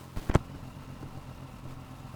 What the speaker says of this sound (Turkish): egzozu yeni MT9'lara göre daha gür, daha tork